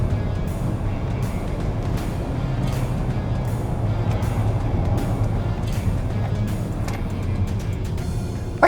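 A Steeda-modified 2020 Ford Escape drives along with a steady, loud engine and road drone heard from inside the cabin, continuous throughout without talking.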